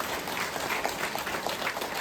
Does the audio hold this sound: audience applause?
yes